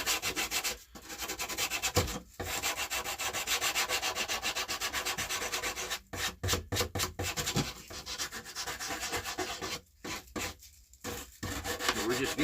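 Steady back-and-forth rasping of sandpaper on wood, close and continuous with a few short pauses between strokes, no voices.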